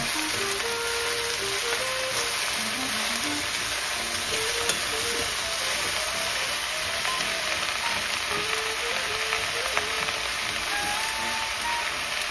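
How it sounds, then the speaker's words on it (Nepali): Salted food frying in a pan while being stirred, a continuous close sizzle with light scraping, running steadily throughout with faint music playing underneath. "साथीहरू, म चलाइदिँदैछु ल।"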